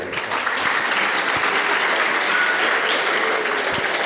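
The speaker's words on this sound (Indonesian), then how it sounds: "Tepuk tangan buat kalian." Applause from a seminar audience of new santri students at Darunnajah Ulujami, Jakarta; steady, dense clapping filling the room at an even level throughout.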